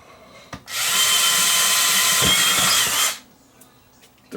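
An old cordless drill, around 19 years old, runs at a steady high whine for about two and a half seconds while enlarging a screw hole, starting and stopping abruptly, loud and close.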